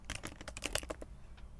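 Quick clatter of keystrokes on a computer keyboard while entering project commands, a close, irregular burst of taps that thins out toward the end.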